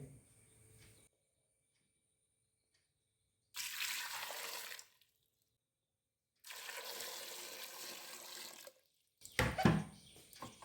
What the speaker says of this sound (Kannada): ಈಗ ಇದಕ್ಕೆ ನೀರು ಹಾಕ್ತಾ ಇದ್ದೇನೆ